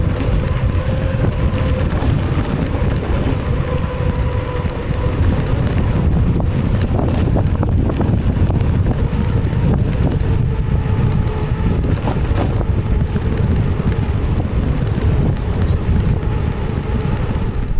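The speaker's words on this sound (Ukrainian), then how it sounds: "зараз буде дуже такий сильний зустрічний вітер" A strong headwind on a bicycle ride buffets the microphone with a loud, constant, heavy low roar, alongside a faint rhythmic clatter of movement.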